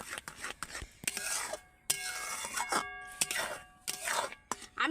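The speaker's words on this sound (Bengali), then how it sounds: "এইভাবে অনবরত নাড়তে হবে" A spoon stirring thickening sandesh batter in a pan, with repeated scraping and rasping strokes of varying intensity, fairly quiet and close, with no clear talk.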